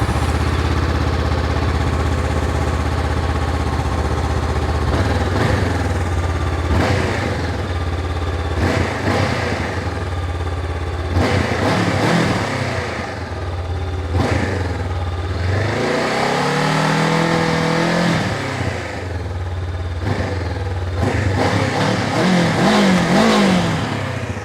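Honda CB500X motorcycle, 2022 model, engine revved repeatedly in short bursts from a steady idle, each rev rising and falling sharply, loud and close with no talking.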